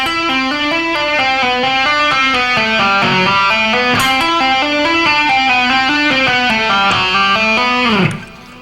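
Electric guitar plays a slow rock lick built on legato hammer-ons and pull-offs with first-finger slides, distorted notes flowing continuously up and down, ending with a sustained note that fades.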